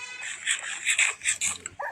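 A dog in a video game whimpers and yips in short bursts while being fed, close and clear, with a few quick high cries in succession.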